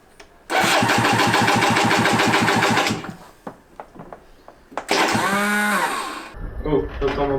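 A barn-find Aprilia RS 125 motorcycle, unstarted for four years and with fuel problems, cranks in a loud rapid pulsing burst for about two and a half seconds. Scattered clicks follow, then a second loud burst of rising and falling revving, and faint voices at the end.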